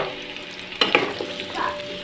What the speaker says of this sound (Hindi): 3 टेंडा हम इस घी में डायरेक्ट डालेंगे।